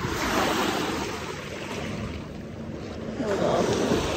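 Ocean waves washing onto a beach at low tide at Fisherman's Bay on Lopez Island, a steady close wash of surf with wind noise, swelling louder near the end, with no talking.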